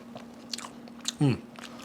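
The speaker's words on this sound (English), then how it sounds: "It's crunchy on the outside, just a little tender in the middle" Crisp anisette toast, crunchy outside and tender within, bitten once up close: a single sharp crunch near the end, preceded by faint mouth and chewing noises with no talk.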